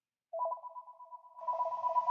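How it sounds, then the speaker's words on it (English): A telephone rings in a room during a spoken lecture, a steady electronic tone that starts abruptly and holds for about two seconds, clear and moderately loud with no talking over it. "don't mind the phone ringing"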